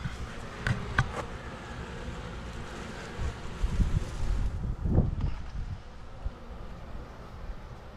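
A small honey bee swarm fans its wings in a soft, steady buzz, faint and partly masked by wind and handling bumps close to the microphone.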